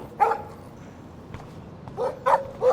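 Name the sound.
dog barking in Life Is Strange video game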